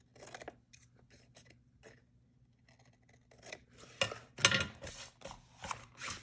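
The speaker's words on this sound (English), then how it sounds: "So I'm just going to kind of trim the corners." Scissors trim the corners of a cardboard book cover made from recycled boxes, with a few quiet, sparse snips at first, then a denser run of louder, close crunchy cuts.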